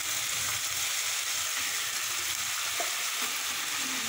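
Cauliflower and potato pieces with turmeric fry in a pan, making a continuous close sizzle with soft scraping and stirring throughout.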